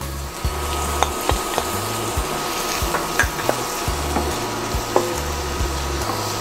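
Onion and garlic sizzle steadily as they fry in a pan for a shrimp dish in alavar sauce, with a near, rhythmic clatter of stirring and scraping running through the crackle.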